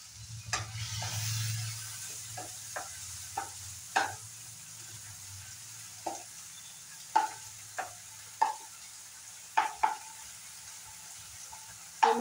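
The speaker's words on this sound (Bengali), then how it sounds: "টমেটোটা এইভাবে ফ্রাই করব যাতে টমেটোটা একদম গলে যায়।" Tomato pieces frying in a small amount of oil for an egg curry, with a soft sizzle under repeated stirring clinks and scrapes of a spoon against the pan, close and moderately loud throughout.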